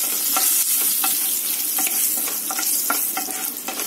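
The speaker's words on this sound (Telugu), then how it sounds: "మినపప్పు, ఆవాలు, జీలకర్ర వేగనిద్దాం" Urad dal, mustard seeds and cumin frying in hot oil, a dense, loud, continuous sizzle close up with small pops and crackles scattered throughout.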